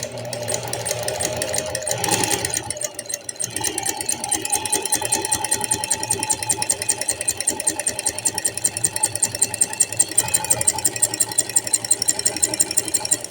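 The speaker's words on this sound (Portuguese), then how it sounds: "Vamos começar aqui a costurar para ver se ela consegue costurar na malha" Domestic sewing machine fitted with an overlock foot running a zigzag stitch on knit fabric, a steady close mechanical whirring with rapid rhythmic needle clatter that briefly pauses around the third second before resuming.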